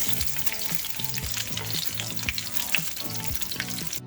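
Sausage sautéing in oil for jambalaya, with a steady sizzle and frequent scraping stirs of a utensil in the pan, a continuous busy frying texture with no talk.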